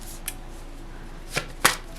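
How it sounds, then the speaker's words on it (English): Tarot cards being shuffled by hand: a few short, crisp papery bursts, one early and a quick pair near the end, close by over a faint quiet room tone. "Give the cards a good shuffle."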